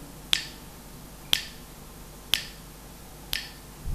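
Four evenly spaced finger snaps about a second apart, sharp and close in a quiet room, part of a music lesson on beat and rhythm.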